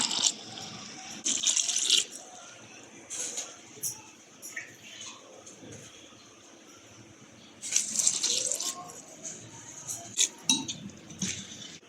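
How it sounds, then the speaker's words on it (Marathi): A vessel of water is poured into a cooking pot for spinach amti, heard as splashing bursts mixed with metallic clinks of utensils, quieter gaps in between. "आता मी पाणी ओतलं आहे एक तांब्या एक तांब्या पाणी ओतलं आहे"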